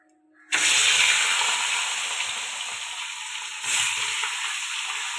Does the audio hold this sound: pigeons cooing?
no